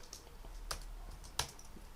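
Quiet typing on a computer keyboard, a few soft scattered key clicks with two sharper taps, close by in a still room with no voices.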